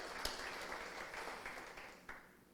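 A church congregation claps together, a fairly quiet, short burst of applause with a couple of sharper claps standing out, fading down by the end.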